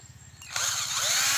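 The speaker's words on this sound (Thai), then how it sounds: "ใช้สว่านครับผมเนี่ย" A power drill spins up to twist wire for a craft butterfly, starting abruptly after a quiet moment and then running loud, close and steady.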